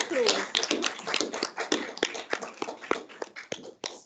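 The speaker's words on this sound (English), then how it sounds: "So more applause." Audience applause at a report launch: scattered, fairly sparse claps from a modest crowd, distinct individual hand strikes that thin out toward the end.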